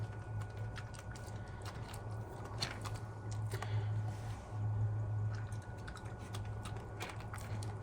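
Small dog Coco eating wet food with water mixed in from a hand at a mountain lake campsite, with soft, steady wet smacking and chewing clicks up close over a low background hum.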